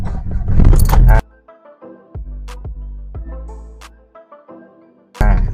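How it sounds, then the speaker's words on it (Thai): Keys jangle before a Mazda Fighter pickup's diesel engine is started after the glow plug light goes out, followed by a low mechanical drone with clicking, then another burst of jangling. "ไฟขดลวดดับแล้วก็สตาร์ทได้เลย"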